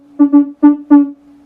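A theremin plays one pitch in a quick rhythm shaped by the volume hand, four short, loud, close tones that swell and cut off in a clipped pattern, with no talk.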